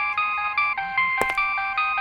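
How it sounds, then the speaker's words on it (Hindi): A mobile phone ringtone chimes in a repeating melodic pattern, steady and fairly loud, with a brief knock or clatter partway through and no talking. "हमारी मैडम का फोन बज रहा है"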